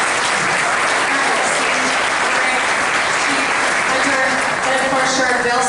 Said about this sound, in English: And a huge round of applause to our panelists